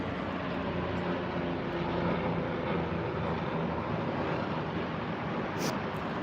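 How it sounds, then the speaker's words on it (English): A loud, constant rumbling drone of helicopters overhead along the Hudson on New York's Upper West Side, steady throughout with a broad roar and no voices. "We do get a lot of helicopters along the Hudson."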